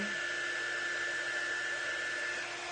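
Hair dryer blowing steadily at close range to dry a holiday craft project, a continuous even whoosh with a faint high whine, running alone with no talk.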